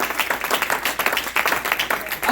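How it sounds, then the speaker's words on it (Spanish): A church congregation gives a loud, sustained round of applause, dense overlapping claps filling the space with a few voices mixed in. "Otro le da un fuerte aplauso al Señor."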